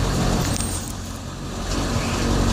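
School bus during a CDL air brake test pulling forward slowly, steady diesel engine rumble and road noise throughout, with brief hissing bursts as the brakes apply. No one speaks.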